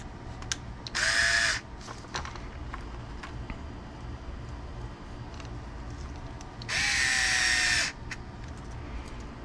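A power driver runs two short bursts, screwing screws into a Kyosho MP10 RC differential case during a kit build, each whirring burst about a second long with a pitch drop at the end, separated by quiet handling sounds.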